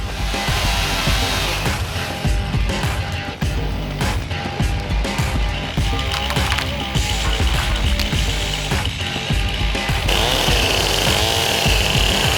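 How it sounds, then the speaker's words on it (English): Chainsaws hinge-cutting trees to improve deer bedding cover. The engines snarl loud and close without a break, revving up and down as the chain bites into wood, with no talk. "fire up the saws and get the safety gear on"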